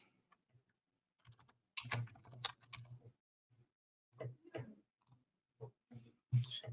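Bursts of computer keyboard typing while filling in an address book, quick clusters of clicky keystrokes with pauses between runs, close and fairly quiet with no talking.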